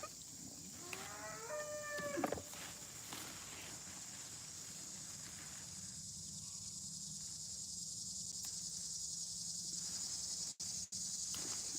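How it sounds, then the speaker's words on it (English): Farm cattle moo toward a man beyond the fence: one long, drawn-out low call early on, then steady crickets and insect buzz carry on in the evening background. "they see Barrett on the other side of the fence, so they're mooing at him"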